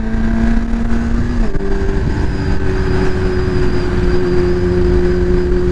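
Kawasaki Z900 motorcycle with a remapped engine pulling away hard, its loud steady drone stepping up in pitch through a gear change and carrying on strongly under wind noise, with no talking.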